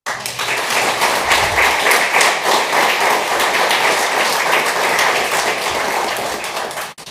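Audience applause at a territorial state address fills the hall as a dense, steady wash of clapping for about seven seconds, staying loud throughout before stopping abruptly at the end.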